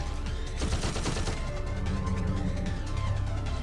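Sustained automatic gunfire from armor piercing rounds aimed at a turret in the 1999 game System Shock 2, a dense continuous rattle of rapid shots with crashing impacts, loud and steady throughout with no talk.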